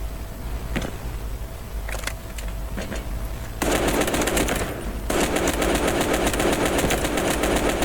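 Bursts of G3 rifle fire in the Delta Force Mobile shooter: a few sparse shots early, then a dense, sustained rapid string of loud automatic fire over the last few seconds, with background game ambience throughout.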